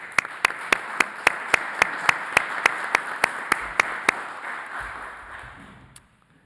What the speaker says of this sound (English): join us in a round of applause for our school board